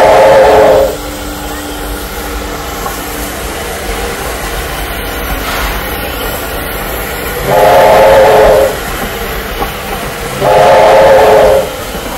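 A heritage steam train on a 45-minute ride near Sydney, New South Wales, rumbles steadily along the rails while its whistle sounds in three loud sustained blasts, the second and third close together.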